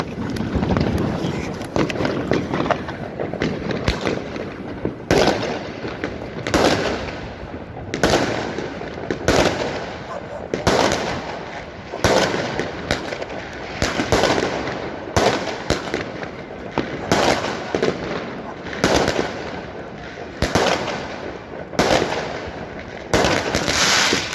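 New Year's fireworks and firecrackers burst repeatedly in sharp, loud cracks and bangs, irregularly spaced, over gusting wind rumble.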